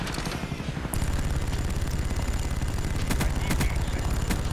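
Sustained automatic gunfire in Call of Duty: Black Ops, a dense rattling burst that cuts off and then resumes as rapid steady fire with mechanical clatter, fairly faint in the game mix.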